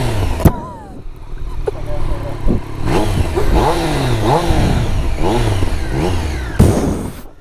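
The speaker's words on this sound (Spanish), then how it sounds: "Vamos a arrancarla para que veáis cómo suena esto." A Triumph Street Triple RS motorcycle fires up with a sharp burst, then its engine is blipped through several rising and falling revs close to the microphone.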